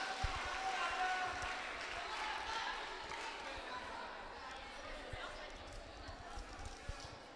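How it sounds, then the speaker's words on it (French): Faint, steady applause from a crowd outdoors at a running race rises for 8 km cadet finishers, a soft sustained patter with scattered thuds and a fading swell under a distant announcer's voice. "Et on applaudit nos cadets"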